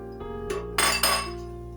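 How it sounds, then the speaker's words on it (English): Chopped pepper and onion are poured from a container into a blender, giving a few bright glassy clinks and knocks in quick succession over a short burst. "Pour it to my blender."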